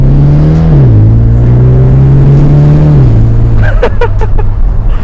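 A Ford Mustang EcoBoost turbo engine and exhaust pulling hard under acceleration, a loud steady drone that climbs in pitch, drops at a shift and climbs again, with a few sharp pops near the end, heard from inside the car.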